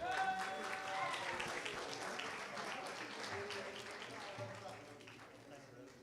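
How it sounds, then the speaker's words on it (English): Steady applause from a room full of people at a birthday satsang, with loud chatter and cheering mixed in throughout. "Let's have a round of applause for the birthday boy."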